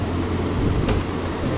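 Air conditioner fan blowing room air, a steady broadband whoosh with a low hum underneath, continuous and fairly close, with no talking.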